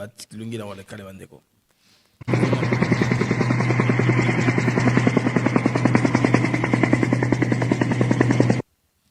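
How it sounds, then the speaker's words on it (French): A helicopter thunders close by with a loud, steady, rapid rotor chop that holds for about six seconds after a brief stretch of someone speaking French. "ça, c'est un hélicoptère."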